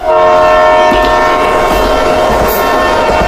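A cartoon train sounds its horn, a loud, sustained, steady tone over rumbling wheels that fills the whole moment.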